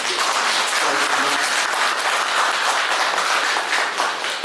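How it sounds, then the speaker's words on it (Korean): Steady, dense applause fills the hall at a housing cooperative members' general meeting in Gwangyang, honoring the outgoing residents' representative chairman, continuous and even throughout. "김재현 입주자 대표회장님께 수고하셨다는 감사의 박수 한번 부탁드립니다"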